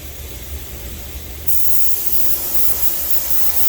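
An airbrush sprays a very thin, light coat of smoked black paint onto a fishing lure, a steady close hiss that grows slightly louder partway through and runs unbroken without talk.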